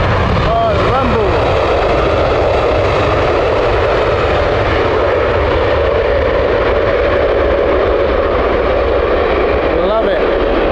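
A WestJet airliner passes at Heathrow Airport with a deep, continuous engine rumble that holds steady throughout, while someone talks over it.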